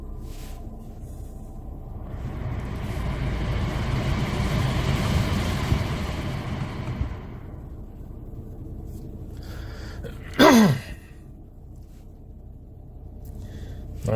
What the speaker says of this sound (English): Go and start this car.